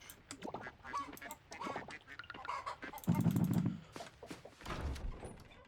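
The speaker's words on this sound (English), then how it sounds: "Quack, quack, quack." Ducks quack in a short, lively burst, several loud honking calls overlapping near and clear, with a low noisy flurry midway and another at the end.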